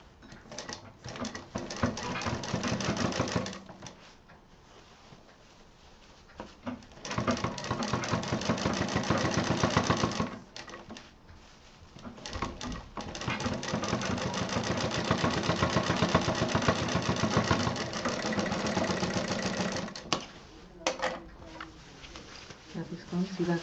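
A sewing machine stitches the border of a handbag, running in long, steady whirring bursts separated by short stops.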